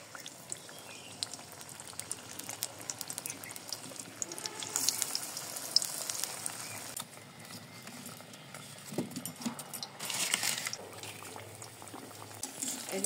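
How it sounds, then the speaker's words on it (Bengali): Eggplant fritters (beguni) frying in hot mustard oil give a steady, soft bubbling hiss with scattered crackles, swelling in the middle and again toward the end. "সরিষার তেল দিয়ে দিচ্ছি। এক এক করে বেগুনিগুলো দিয়ে দিচ্ছি।"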